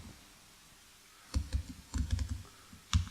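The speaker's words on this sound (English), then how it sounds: "I'm typing and you see nothing." Faint keyboard typing: a few quiet bursts of key clicks with short pauses between them against a soft, hushed background.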